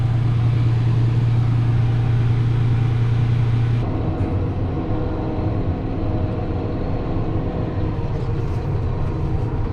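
A combine unloading soybeans into a truck in a field, heard as a loud, steady mechanical roar with a strong low hum that drops away partway through while the broad machine noise continues, no talking.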